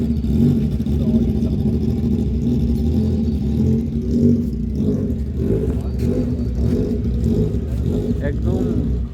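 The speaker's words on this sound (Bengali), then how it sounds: "এটা সুজুকি কোম্পানির একটা গাড়ি। আর এটার সিসি হচ্ছে 1000 সিসি। এর সাউন্ডটা একটু শোনো।" A Suzuki 1000cc motorbike engine runs with a steady, loud, low rumble and slight rises in revs, filling the whole stretch close by, with no talk over it.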